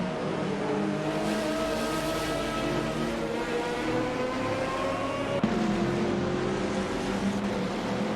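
Simulated GTR race cars lapping Mugello in a racing video game, with a steady multi-car engine drone and rising, layered revs holding loud throughout, plus a brief sharp transient partway through.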